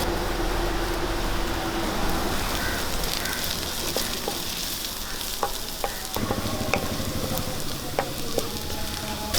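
Chopped curry leaves crackle and sizzle in hot oil in a frying pan with garlic for masala puttu, a steady close hiss broken by scattered pops and occasional stirring scrapes.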